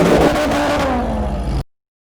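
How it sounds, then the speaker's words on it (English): A car engine runs and revs loudly as a podcast intro effect, a rising rumbling whir with clattering texture that cuts off abruptly into silence. "All engine running."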